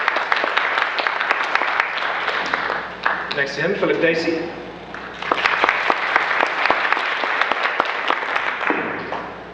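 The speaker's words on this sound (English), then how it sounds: "You can give a round of applause if you would like" Audience applause greeting Republican aldermen candidates at a forum, steady clapping from a crowd that dips briefly while a man announces the next name, then swells again.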